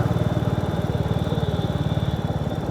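A motorcycle engine runs close by near the Teesta Barrage, a loud, rapid, even low putter that carries on steadily without anyone speaking.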